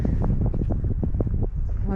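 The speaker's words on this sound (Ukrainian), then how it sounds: "вітер посилився." Gusty wind buffets the microphone in a loud, rumbling rush that stays constant for a couple of seconds.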